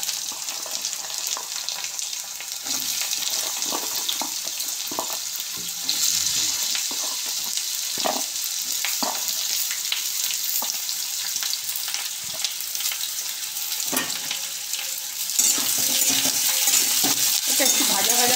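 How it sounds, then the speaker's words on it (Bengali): Cut potatoes frying in hot oil give a steady, loud sizzling hiss that runs throughout, with occasional clinks and scrapes of a utensil in the pan. "এটা একটু ভাজা ভাজা করতে হবে, একটু ভাজা ভাজা করে নিই"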